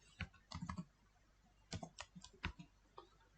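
Quiet, close clicking of keys on a computer keyboard in two short bursts separated by a pause, a few isolated taps trailing off at the end; no voices.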